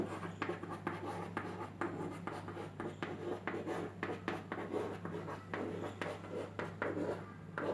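A teacher writes on a classroom board during a class 11 physics lesson, producing steady repeated scratchy strokes in short bursts, close and fairly loud over a constant low hum, with no talking.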